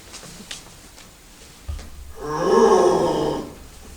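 Person imitating a bear's roar: a loud, sustained throaty growl that swells after a brief thump and a few faint noises, close to the listener and heard alone.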